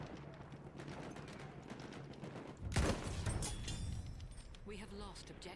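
Gunfire in the World War One shooter game Battlefield 1 sounds as a loud burst of shots midway, over a constant background of distant battle noise, with a person talking.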